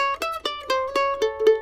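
A mandolin picks a short lick of about seven bright, evenly spaced plucked notes with ringing sustain, played close and alone in a lesson setting.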